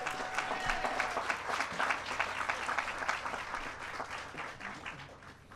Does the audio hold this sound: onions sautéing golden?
no